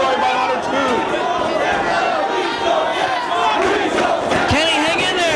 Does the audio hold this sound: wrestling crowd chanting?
yes